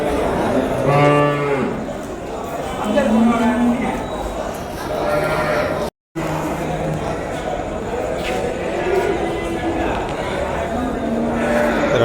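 Cattle and bulls low repeatedly amid a busy crowd at a livestock market in Vaniyambadi, several deep moos rising over steady background chatter and outdoor market noise.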